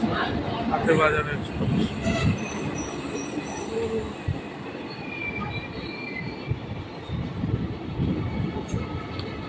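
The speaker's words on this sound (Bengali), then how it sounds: "এখন এই এক্সপ্রেস ট্রেনটি যাচ্ছে শিয়ালদাহ স্টেশনের দিকে। ধীরে ধীরে স্টেশন দিয়ে বেরিয়ে যাচ্ছে।" An express train bound for Sealdah rolls slowly out of a station, its wheels rumbling steadily with high metallic squeals and clatter, and a voice talking faintly over it throughout.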